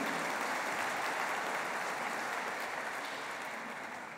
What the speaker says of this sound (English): I think that deserves just a round of applause itself.